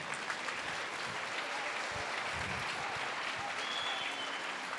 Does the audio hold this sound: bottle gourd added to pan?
no